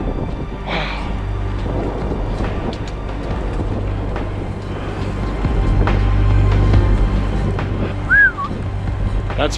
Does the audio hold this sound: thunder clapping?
yes